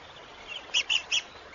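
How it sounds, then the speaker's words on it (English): A rare red-cockaded woodpecker in a loblolly pine on a military training ground gives three short, high chirping calls in a quick series over faint background hiss. "The rare red-cockaded woodpecker lives in this loblolly pine."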